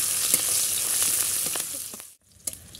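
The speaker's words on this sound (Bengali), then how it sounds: "কাঁচা লঙ্কা চিরে রেখেছিলাম, দিয়ে দেবো।" Slit green chillies and crushed garlic fry in hot oil with a loud, close, steady sizzle that drops out abruptly for a moment near the end, then returns with a brief crackle.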